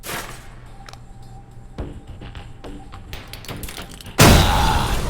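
A thrown grenade detonates a truck's gas tank in the Alpha Protocol video game, a sudden loud, close blast that follows a few soft taps and thuds and then rumbles on to the end.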